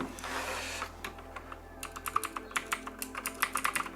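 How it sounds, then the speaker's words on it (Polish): Rapid clacky keystrokes of a Modecom Volcano Hammer mechanical keyboard, starting under a steady hiss and becoming a fast irregular run of sharp clicks, close by. "ten głośny klik klawiszy jest dla nich za głośny, wkurzający"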